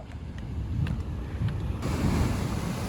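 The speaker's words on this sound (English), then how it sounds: "The waves are lower because it's lower tide." Surf breaking against the rocks at Devil's Tears on Nusa Lembongan at lower tide, a continuous wash of waves with a louder surge near the end, mixed with gusty wind buffeting the microphone.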